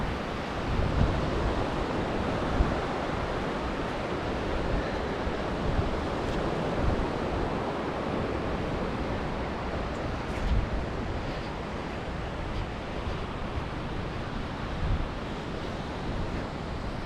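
Ocean waves roll onto a calm South Australian beach in a steady, broad wash of surf with wind noise, continuous and fairly even in loudness throughout, with no voices.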